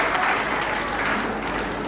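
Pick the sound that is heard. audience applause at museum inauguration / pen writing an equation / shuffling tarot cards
audience applause at museum inauguration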